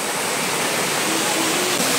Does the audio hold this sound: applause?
no